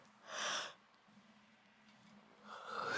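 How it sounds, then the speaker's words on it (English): A person yawning: a breathy, drawn-out inhale swells and fades, followed after a quiet pause by a rising, voiced exhale, both close and fairly soft. "Sorry, I keep yawning."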